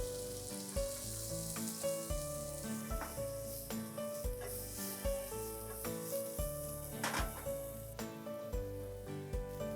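French beans and carrots sizzle in a hot pan for Mumbai street-style fried rice, a loud continuous crackle broken by rhythmic scraping stirs roughly every second.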